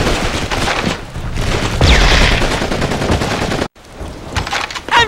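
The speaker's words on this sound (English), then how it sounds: "We gotta get past that machine gun!" A German MG-42 machine gun in Call of Duty 2 rattles in loud, continuous bursts of rapid fire, with a brief cutoff before the chatter resumes.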